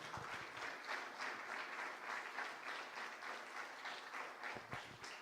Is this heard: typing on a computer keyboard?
no